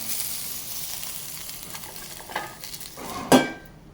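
Okra fries in a pan and is stirred, a steady close sizzle with soft scraping strokes, ending in one sharp metallic knock against the pan before the sizzle fades.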